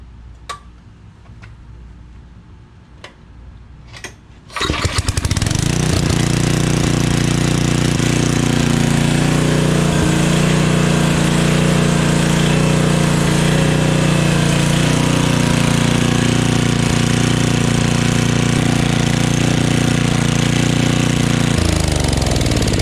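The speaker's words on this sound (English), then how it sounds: "then we'll crank our generator back up" A portable generator is cranked a few times, then its engine catches and settles into a loud, steady, close-up running drone that holds for the rest of the clip before easing off at the end.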